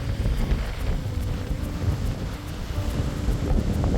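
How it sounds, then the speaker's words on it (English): Strong wind buffets the microphone in a steady, heavy roar at a beach in Altura, Portugal, with a faint wash of surf underneath and no voices. "It's really windy, really nice."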